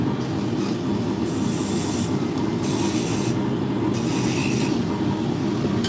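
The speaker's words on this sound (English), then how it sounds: "Now I'm going to lay in the beads. I'm going to use this beading tool." A beading tool cuts into thin spinning wood on a lathe while a drop spindle is made, giving a steady rough scraping rumble with brighter hissing bursts as the edge bites in and lifts off.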